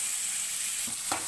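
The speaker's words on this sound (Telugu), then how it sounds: "మనకు వేసిన ఆనియన్, టొమాటో రెండు ఫ్రై అయిపోయినాయి కదా" Onion and tomato frying in a pan for chicken fry, a brief steady sizzle with a couple of soft stirring knocks near the end.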